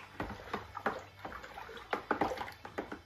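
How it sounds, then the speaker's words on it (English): Wort from a Mangrove Jacks Hazy IPA beer kit stirred hard with a spoon, thick liquid and cold water mixing together, making a run of close, uneven sloshing splashes with small gaps between them and no talking. "I'm going to give it a really good stir"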